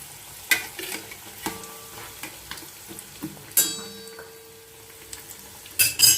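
Samosas deep-frying in oil over medium heat, a soft steady sizzle broken by several sharp clinks and taps of a utensil against the pan, fairly close and with no voices.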